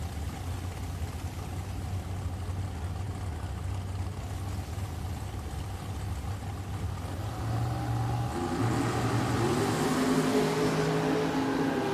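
A drag racing dragster at Richmond Dragway rumbles at a distance with a steady mid-pitched engine drone, swelling louder into a revving roar near the end.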